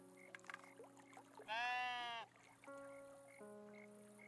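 Cartoonish sheep bleat from the cozy building game Tiny Glade, a single loud, wavering call lasting under a second, set against soft ambient game music and small plinking effects.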